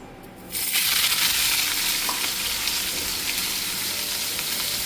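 A dried red chili and onions hit hot oil with a sudden loud sizzle after a short quiet start, then settle into a steady, bright crackling hiss that lasts to the end.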